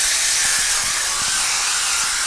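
An aerosol can of cooking spray is sprayed onto a waffle maker for protein waffles, giving a continuous loud, steady hiss that runs for about two seconds and then cuts off abruptly.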